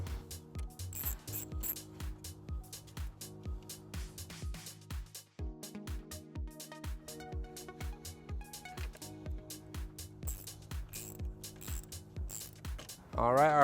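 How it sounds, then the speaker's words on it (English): A 10mm socket on a ratchet backs a post off a 2016 Chevrolet Malibu during a trailer wiring install, giving a steady run of quick, even clicks at moderate level that pause briefly midway. "We're going to go ahead and remove that with a 10mm socket."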